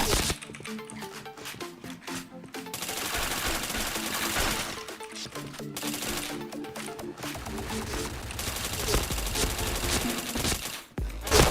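Rapid automatic gunfire in the online shooter Point Blank, dense bursts of shots rattling almost without pause, with a few short gaps between volleys and a voice speaking faintly underneath.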